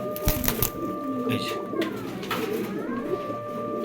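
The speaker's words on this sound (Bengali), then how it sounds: "এই যে দেখেন অনেক সুন্দর এই কবুতরগুলা" Racing, Spanish pouter and Mundian pigeons coo softly nearby at a pigeon farm, low throaty calls repeating amid background noise.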